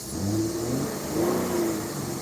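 A car engine revs nearby in short rising bursts over a steady mid-pitched drone, with no talking.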